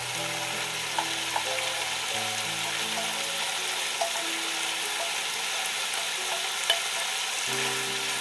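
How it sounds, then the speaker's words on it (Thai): Kimchi fried rice is stir-fried over high heat, with a steady close sizzle, occasional light clicks of utensils, and faint tonal hum in the background. "ผัดไฟแดงให้แห้ง"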